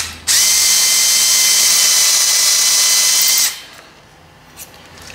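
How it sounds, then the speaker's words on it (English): A number 7 bit drills a hole through carbon fibre plate about half an inch thick, a loud, close, steady high whine lasting about three seconds before cutting off abruptly, followed by quieter workshop noise. "Just drill that out, number 7."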